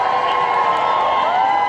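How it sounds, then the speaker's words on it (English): A crowd cheers and applauds at the Regent Street Christmas light switch-on in London, a dense, steady wash of whoops and claps at close range with a bright shrill edge, holding level for under two seconds. "Once more, ladies and gentlemen, give them a massive round of applause."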